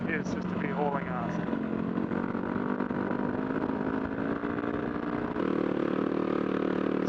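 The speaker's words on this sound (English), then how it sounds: "Sound of two singles pumping away." Two Yamaha WR250R single-cylinder motorcycle engines run together on a dirt track through the Mallee, a steady mid-pitched drone throughout that shifts in tone toward the end, heard from close by.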